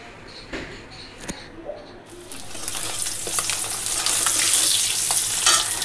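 Eggs fry in a pan with a steady, close sizzle that swells and grows louder over several seconds, broken by a few scraping stir sounds, with no one talking.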